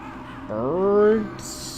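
A single drawn-out crow caw from the Metal Gear Solid video game, harsh and nasal, rising and sliding for about a second, close and fairly loud over a low game background hum.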